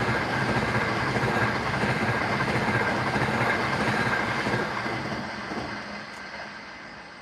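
A Pendolino train passes close by with a loud, steady roar of wheels and rails that holds for several seconds, then gradually fades away.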